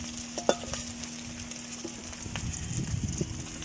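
Small prawns fry in a pan with a soft, continuous sizzle and a few light stirring clinks, quiet and close, with no voices.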